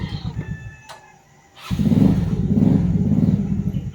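A motorcycle engine idles with a low pulsing thrum, then revs up and pulls away loudly as riders set off, the rumble staying strong and near for the remaining seconds.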